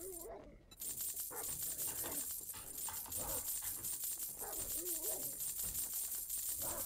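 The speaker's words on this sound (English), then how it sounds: "Pay no mind to that growling outside, sir." A dog growls and whines outside during 7 Days to Die gameplay, with several rising snarling calls over a constant loud, noisy background.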